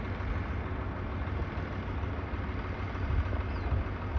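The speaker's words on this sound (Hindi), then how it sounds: "एक ट्रैक्टर दूसरे ट्रैक्टर को निकाल रहा है।" A tractor engine labors in a hot farm field while towing another tractor stuck deep in waterlogged ground, a loud, steady low rumble droning continuously without pause.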